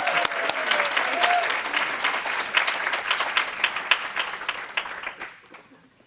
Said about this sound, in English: So let's give our student leaders a big round of applause.